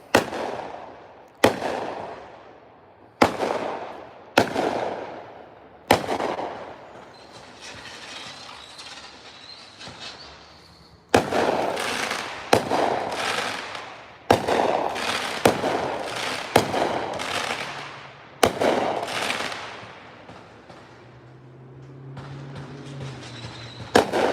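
Fireworks go off in a series of sharp, loud bangs, each followed by a crackling hiss that fades, with clusters of rapid bursts in the middle and a distant low rumble beneath.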